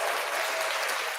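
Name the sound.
a clap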